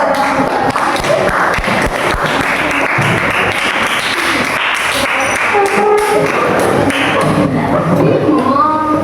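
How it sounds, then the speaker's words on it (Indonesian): Loud, dense applause fills a room after a presentation, with continuous clapping and crowd noise throughout and some scattered voices mixed in. "Tepuk tangan dulu."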